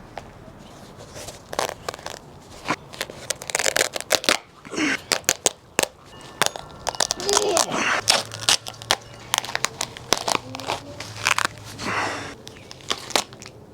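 A barefoot-style shoe being torn apart by hand, with repeated sharp ripping, crunching and tearing bursts of fabric and sole material at close range, irregular and uneven, with brief pauses between pulls and a faint low hum underneath.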